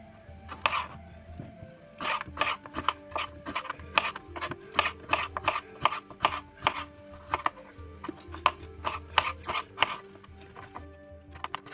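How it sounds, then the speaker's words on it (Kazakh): A knife chops tomatoes and cucumbers into thin strips on a board, a close run of quick, sharp, repeated taps in uneven bursts with brief pauses between. "Бұны да осылай соломка қылып тураймыз."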